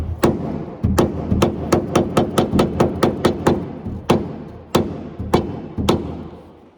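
A hammer strikes a seized leaf spring bolt nut on a 2013 Nissan Frontier, a rapid run of about a dozen sharp metallic taps followed by a few slower, spaced blows, close and loud.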